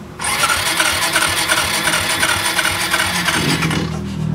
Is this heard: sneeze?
no